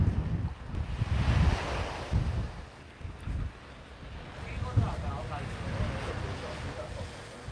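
Waves wash onto a beach at Cheung Chau, Hong Kong, in irregular surging rushes mixed with gusty wind buffeting the microphone, a voice talking faintly in the background.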